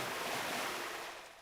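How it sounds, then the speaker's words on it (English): Broad, steady water splashing and wash from the video game AnyRPG, a dense continuous rush like surf heard up close, fairly loud and alone with no talk, easing slightly toward the end. "Let's turn that splash sound effect down a little bit."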